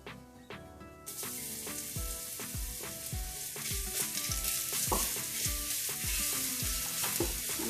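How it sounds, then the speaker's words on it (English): Garlic drops into hot oil in a pan for an eggplant dip, a sizzle bursting in abruptly after a second of quiet tapping, then frying loudly under a regular beat of spoon strokes against the pan. "Fry that for 2 seconds. I'm going to add some garlic."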